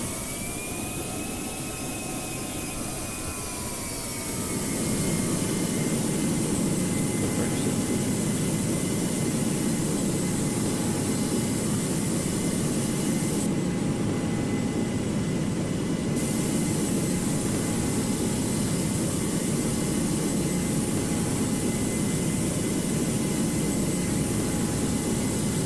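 A Virgin A330-900neo jet in a flight simulator game spools up for taxi: a steady engine whine with whistling tones, then a louder, constant roar that holds for the rest of the clip.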